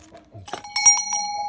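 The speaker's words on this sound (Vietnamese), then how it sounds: "chuông" A small door bell rings briefly with a bright, clear ding after a few soft clicks, sustaining a short metallic tone, fairly faint and close.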